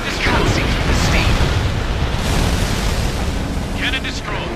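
A railgun cannon exploding in the video game Ace Combat Infinity, a dense, loud rumbling blast with roaring noise that holds for several seconds, with brief voice-like radio chatter near the end.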